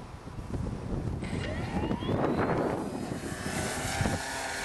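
New electric motor spinning the propeller on a Sig LT-25 model airplane, a steady whirring drone with rising tones, heard from nearby through wind noise on the microphone.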